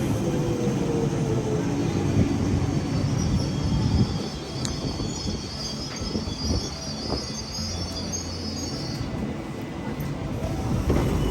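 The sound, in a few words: London Underground train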